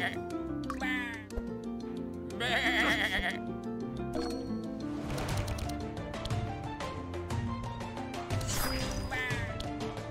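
Sheep bleating inside the fantasy card game Across the Obelisk, layered with bright game music, combat hits and crashes, with a person talking during play.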